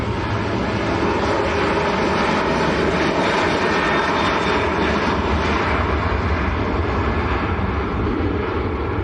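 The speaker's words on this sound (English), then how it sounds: "This is a Ryanair 738. Short flight to Dublin for this one." A Ryanair Boeing 737-800 departs Manchester Airport for Dublin, its engines giving a loud, dense, continuous jet roar that stays at full strength without letting up.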